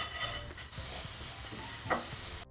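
Washed red matta rice dry roasting in a pan, a soft crackling sizzle with light scraping stirs and an occasional clink of a utensil, quiet and close.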